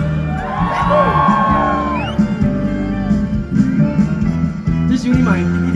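An outdoor arts-festival concert crowd in Kaohsiung screams and cheers for a Taiwanese-song singer, a loud, dense burst of whoops and shouts with music running underneath.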